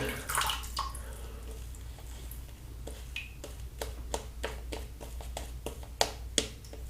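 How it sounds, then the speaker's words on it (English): A boar-bristle brush swirls a vegan shaving soap as a touch of water is added, giving soft wet lathering sounds with a series of sharp little taps and clicks, fairly faint and close. "let's add just a touch of water to that"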